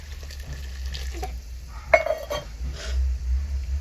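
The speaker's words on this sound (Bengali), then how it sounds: "মশলা বাটা এই যে জল আছে এই জলটুকু আমি আগে দেব" Water is poured from a vessel onto ground spice paste in a hot pan while cooking a vegetarian banana blossom curry, making a short, close splash and sizzle over a low kitchen hum.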